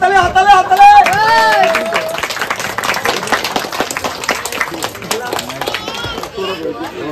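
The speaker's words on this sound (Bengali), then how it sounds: "একটু জোরে হাততালি।" An audience claps at a trophy presentation, a dense patter of applause that mixes with a sung or amplified voice at the start and crowd voices throughout.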